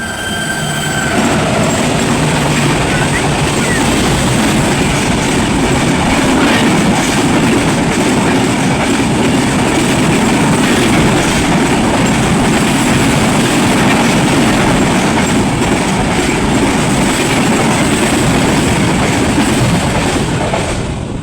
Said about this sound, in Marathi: तर आता जी ट्रेन आपल्याला पास झाली, क्रॉसिंग झाली, ती ट्रेन होती 10104 मडगाव मुंबई छत्रपती शिवाजी महाराज टर्मिनस मांडवी एक्सप्रेस